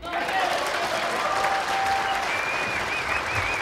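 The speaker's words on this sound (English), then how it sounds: "Now when the 9 goes in, as it surely will, just listen to the cheer again." A crowd at a World Pool Masters nine-ball match in Kielce claps and cheers loudly in a dense, sustained wash of applause, with a commentator's voice faintly over it.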